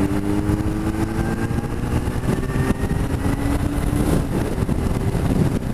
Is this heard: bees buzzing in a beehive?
no